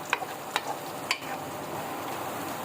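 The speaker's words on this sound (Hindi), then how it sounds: "हरी मिर्चों को भी हमने आधे मिनट के लिए फ्राई कर लिया है" Green chilies fry in hot oil in a pan for beef brain masala (maghaz). A soft, steady sizzle runs throughout, with three sharp utensil clicks near the start.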